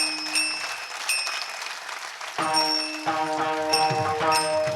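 An audience claps in rhythm during a Marathi devotional kirtan, with bursts of hand clapping over ringing cymbal-like tones and sustained musical notes that grow fuller partway through.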